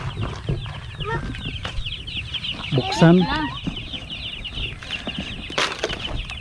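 Chickens cluck and rooster-like calls sound close by during a handling task, with a louder burst near the middle over steady background noise and people talking throughout.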